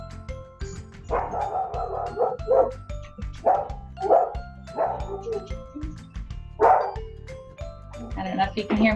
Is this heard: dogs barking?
yes